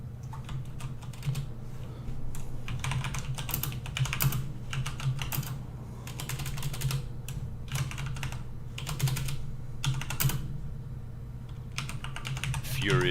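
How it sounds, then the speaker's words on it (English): Rapid, furious typing on a computer keyboard clatters in dense bursts throughout, close and steady, over a low constant hum during a casual gaming livecast recording. "Furious typing."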